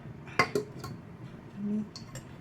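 A metal cooking vessel is set down inside a gas pressure cooker beside leafy greens, giving a few close metallic clinks and knocks followed by a faint scrape.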